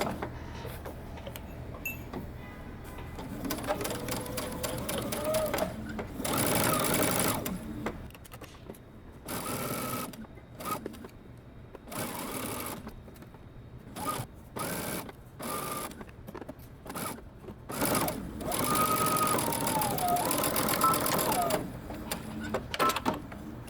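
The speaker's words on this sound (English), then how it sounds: "now we're going to sew using 5/8 of an inch seam allowance." A sewing machine stitches knit top seams at a 5/8-inch allowance in repeated bursts of fast mechanical whirring, separated by short pauses, close and steady, with no talking.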